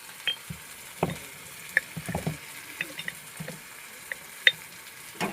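Ground spices with Kashmiri chili, cumin and coriander powder frying in a pan, a quiet scattered crackle with sparse sharp pops and light stirring ticks.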